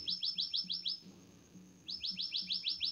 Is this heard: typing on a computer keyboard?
no